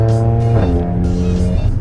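Mercedes A45 AMG fitted with a Milltek exhaust, a loud close engine note with strong harmonic tones that drop in pitch partway through as if shifting or easing off, then carry on steadily.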